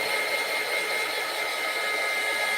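A hair dryer blows steadily and at close range over chalk ink applied to vinyl, a continuous even whoosh with no breaks from start to finish.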